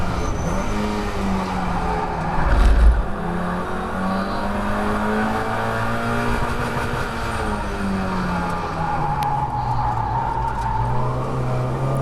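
Mazda MX5 race car lapping Croft circuit, its engine note droning steadily and rising and falling through the gears, with a brief thump around the third second; close, continuous and without talk.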